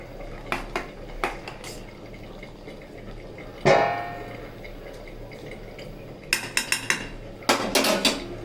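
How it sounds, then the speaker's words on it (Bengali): A metal pot of cooked rice is lifted off a home kitchen stove: scattered clanks and scrapes of metal, with one louder clatter midway and a quick burst of knocks and rattles near the end. "এবার ভাতটা নামিয়ে দেবো,"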